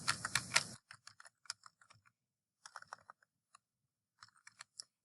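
A title gets typed on a computer keyboard, with close, crisp key clicks coming in short bursts separated by brief pauses, after a louder clatter at the start and with no talking.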